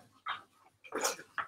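A female dog with a broken new toy gives a few short, faint whimpers and yips, in separate bursts with quiet gaps between them.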